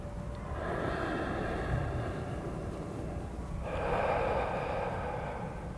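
Steady breathing in and out through a shoulder warm-up exercise for the serratus anterior, done with a stick, alone and fairly close, with a longer, louder exhale-like rush of air near the end.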